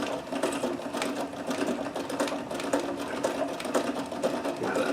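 A Necchi BU Nova sewing machine stitching with a double needle through fabric, a steady rapid mechanical chatter running continuously up close without voices.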